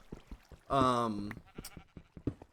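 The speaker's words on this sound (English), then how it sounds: "there's a lot of sheep right there" Sheep in the Minecraft video game giving a single clear bleat, a wavering buzzy cry heard close and loud between stretches of quieter talking.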